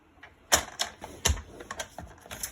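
Paper being creased and folded by hand for a scrapbook photo album, a few sharp crisp creasing snaps at irregular intervals with softer rustles between, close and fairly clear.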